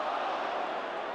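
Football crowd at a Brighton match applauding a player, a steady broad wash of distant clapping and murmur with no distinct peaks, filling the stands evenly throughout.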